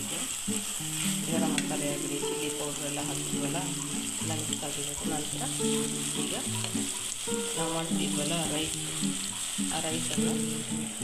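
Capsicum rice with tomato, vegetables and masala sizzles in a hot pan while a spoon stirs and scrapes repeatedly, a steady loud frying hiss under the rhythmic clatter.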